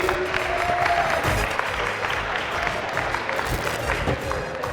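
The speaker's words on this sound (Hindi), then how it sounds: "ओह वंडरफुल, तालियां होनी चाहिए भाई।" Studio audience applause on a TV talent-hunt game show, loud, sustained clapping from a crowd that runs the whole length, with a little voice mixed in beneath it.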